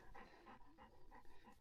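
A friendly puppy pants in quick, rhythmic breaths close by, soft and steady, outdoors along a river.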